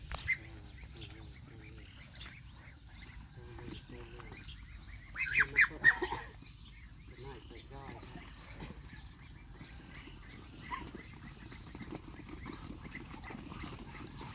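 Ducks being caught for sale on a Thai farm give scattered honking quacks and squawks, with a louder flurry of calls midway and low rustling and handling noise throughout, moderately close.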